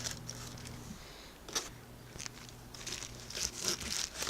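Scissors cut the tops off plastic bags up close, with quiet crinkling and scattered crisp snips and rustles in an otherwise calm setting.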